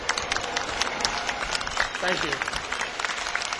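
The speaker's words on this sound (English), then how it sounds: "Let's give Lifelight a round of applause." Crowd applause and cheering at a homecoming parade in Wauseon, a dense steady clatter of many hands outdoors, with a voice speaking briefly over it.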